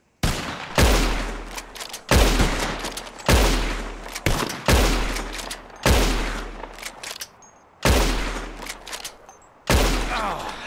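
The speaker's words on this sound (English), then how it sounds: "As soon as you see them, start shooting." Gunfire in Red Dead Redemption 2, a series of about eight loud, close gunshots spaced roughly a second apart, each with a booming crack and a long echoing tail.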